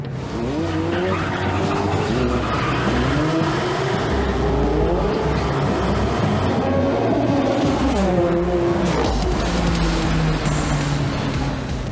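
A Corvette Z06 races a motorcycle around a track, engines roaring and shifting pitch continuously as they accelerate and brake, with tire squeal and faint talk underneath throughout.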